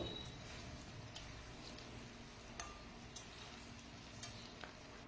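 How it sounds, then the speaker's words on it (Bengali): Paneer fries in a pan, a quiet, steady sizzle with scattered small ticks and clicks from the cookware, heard alone without talk. "আমি পনিরটা ভালো করে ভেজে নেব।"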